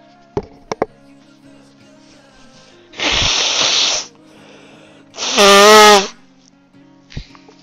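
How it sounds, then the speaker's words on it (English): A loud, roaring sneeze bursts out twice, a broad noisy rush followed by a harsher, higher-pitched blast, with a few sharp clicks before and after in an otherwise quiet room. "I let out a mighty roar and sneeze."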